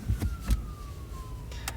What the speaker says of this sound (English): Again with the sirens.